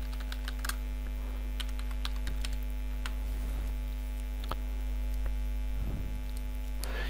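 A search being typed on a computer keyboard: scattered, crisp keystroke clicks at an uneven pace over a steady electrical mains hum, with no voices.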